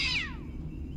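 A cat gives one short, close, clear meow that falls in pitch and fades quickly, over a low background hum.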